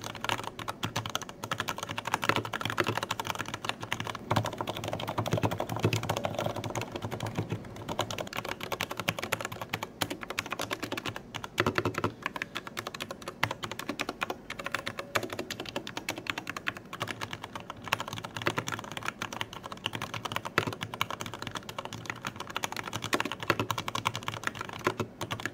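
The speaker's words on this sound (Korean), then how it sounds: "저소음 축을 갖고 있지 않음에도 불구하고 사실 그렇게 크게 시끄러운 편도 아니고요." Steady, brisk typing on a mini-layout mechanical keyboard with non-silent switches: a continuous run of close, fairly soft key clacks and taps, alone, with no voices.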